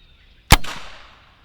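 A single loud, sharp report from a Pinty P-Force airgun fired into ballistics gel, close by, with a short decaying tail afterward and no talking.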